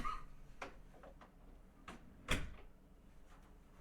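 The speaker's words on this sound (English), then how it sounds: "Because I gotta shut this door." A door is shut nearby, heard as several light clicks and knocks followed by one sharp, louder thud midway, then faint ticks in a quiet room.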